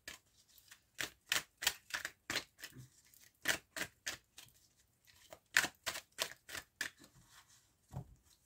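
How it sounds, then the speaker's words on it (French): Tarot cards drawn one by one in a steady sequence of crisp, close snapping and flicking sounds with brief pauses, alone without talk. "Donc je vais tirer 5 cartes, seulement 5 cartes"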